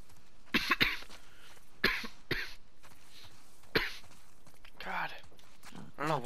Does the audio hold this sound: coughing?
yes